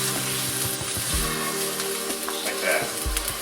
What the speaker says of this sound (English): all we're trying to do is we're trying to sear the outside